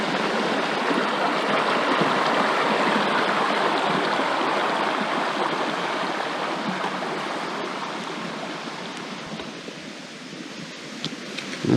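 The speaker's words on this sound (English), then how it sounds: "I'll just fill it up out of the brook there" A mountain brook on Mt Passaconaway rushes steadily in the wilderness, a continuous broad wash of flowing water heard close and loud, easing slightly toward the end.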